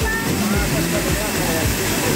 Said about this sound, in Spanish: Pues mira qué bonita cascada aquí en Villaluz.